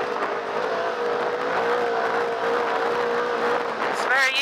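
A Polaris RZR RS1 side-by-side races fast over whoops. Its engine holds a steady, loud drone with a mid-pitched whine, and the sound wavers and climbs near the end.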